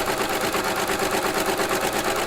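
Serger machine running a flatlock stitch with metallic thread in the loopers, a fast even mechanical whirr with rapid rhythmic ticking, close and continuous.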